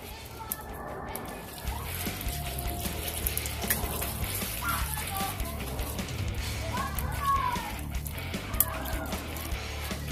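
Water boiling in a pot over a wood fire gives a steady, dense bubbling and sizzling that runs continuously, with faint voices and background activity underneath.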